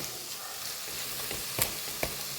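Pomegranate pickle sizzles steadily as it is stirred and sautéed in a hot pan. A spoon scrapes the pan now and then over the continuous frying hiss, close up and with no voices.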